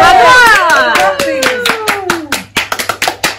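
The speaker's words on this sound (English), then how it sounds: "Round of applause." A small group claps for fundraising for muscular dystrophy with scattered, distinct claps that come unevenly after a voice is heard at the start, thinning into separate sharp hits near the end.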